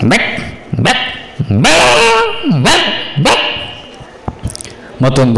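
A voice imitates a pet dog barking at a district-level poetry gathering, loud close yelps and whining barks in several bursts, each rising and falling in pitch like a real dog's.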